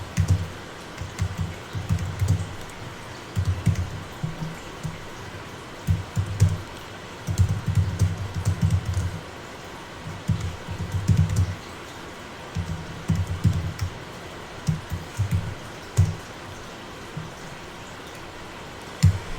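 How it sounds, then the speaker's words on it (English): Typing on a computer keyboard at a desk: close, crisp key clicks in irregular bursts with short pauses between them, heard on their own without speech. "I don't know if I can type anymore"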